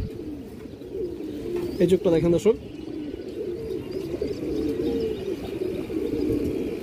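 Pigeons coo in low, rolling calls close by while someone talks over them, with a short louder fluttering call rising in the middle.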